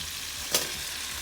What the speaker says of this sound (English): At the same time, let's flip our cod.